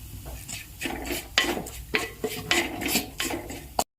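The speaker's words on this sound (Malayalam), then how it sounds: "ഇതെല്ലാം കൂടി നന്നായി ഇളക്കി ഇതിൻ്റെ പച്ചമണം ഒന്ന് മാറണ വരെ ഇളക്കാം" Spices and turmeric being stirred in a pan for Kerala-style fish curry: repeated metallic scrapes and clinks of a spoon against the pan, with a faint sizzle underneath, in an uneven rhythm.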